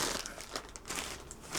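Plastic bags wrapped around packs of paper bows crinkle and rustle close up in a quiet room, with quick crackling bursts and no talking.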